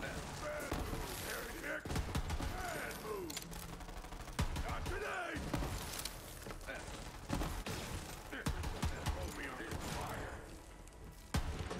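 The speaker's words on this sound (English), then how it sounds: "Oh yeah, shotgun. I live for this." Shotgun fire in the video game Borderlands 3, repeated booming blasts and clattering mechanisms in quick bursts, loud and dense with other game effects, with a voice talking over parts of it.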